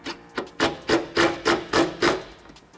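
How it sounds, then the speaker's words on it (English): A screw is driven into vehicle metalwork while fitting a rear-view camera, giving about seven rhythmic grinding bursts in close succession, loud and near, with short pauses between turns. "I'm going to just get one screw tapped in and through the metalwork"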